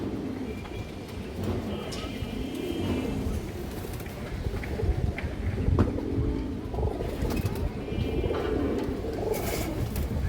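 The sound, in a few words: pigeon cooing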